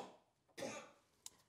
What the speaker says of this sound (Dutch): Ik moest even hoesten.